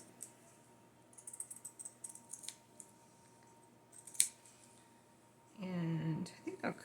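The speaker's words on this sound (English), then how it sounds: "So I'm going to cut right next to the hem. Just kind of cut that hem off the edge here." Scissors cut the hem off a piece of fabric in a quick series of faint, close snips, followed by a brief murmur of a voice at the end.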